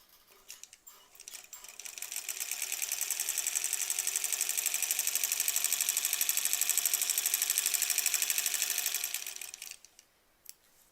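A sewing machine stitches a quilt block of improv-pieced curves in one long, steady run of rapid stitching, close and loud, starting up and stopping after about nine seconds.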